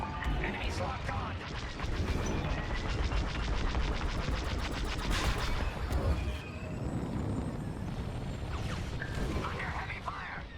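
Heavy blaster fire in Star Wars Squadrons hammers away in rapid, continuous bursts through a space dogfight, with engine roar and explosions mixed in. Radio voices talk over the shooting.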